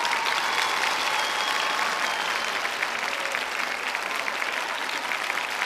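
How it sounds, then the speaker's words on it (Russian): Audience applause following a children's song performance at a televised singing contest, a steady dense wash of clapping from a large crowd that continues evenly without pause, with no talking over it. "Аплодисменты Вике."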